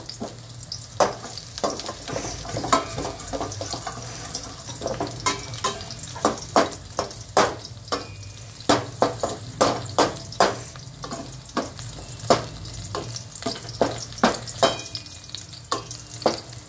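Garlic fries in hot oil until reddened for a Maharashtrian chawali (black-eyed pea) bhaji, a continuous close sizzle punctuated by many sharp spatula scrapes and clicks against the pan.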